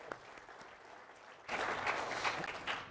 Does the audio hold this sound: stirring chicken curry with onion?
no